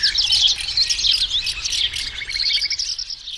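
Bright, rapid twittering and chirping of a small caged magic bird in a storybook setting, a continuous flurry of high trills and tweets close by with no voices.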